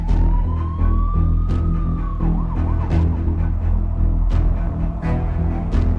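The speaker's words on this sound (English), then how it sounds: "So the siren you can hear is police on the way." A police siren wails and sweeps in pitch at moderate distance, over a constant low rumble with a few sharp clicks.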